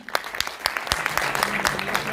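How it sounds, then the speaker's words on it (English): Audience applause for the actor Abhimanyu at a cast event for the film L2 Empuraan, a thick burst of many clapping hands with sharper individual claps popping out, continuous for a couple of seconds. "A little more round of applause,"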